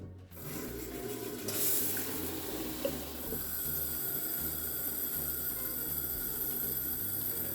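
Water runs steadily from a tap into a kitchen sink while curly kale is washed, giving a soft, continuous splashing rush heard alone at moderate volume.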